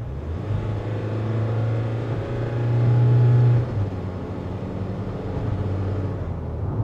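A Nissan Caravan van with a 2.5-litre diesel turbo engine accelerates hard, its loud, steady engine drone rising in pitch, peaking near the middle and then settling into a sustained cruise.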